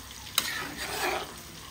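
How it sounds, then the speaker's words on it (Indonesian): Tofu frying in a pan, a steady close sizzle with a sharp clatter of stirring near the start. "Ini tahunya lagi digoreng, coba sini ya."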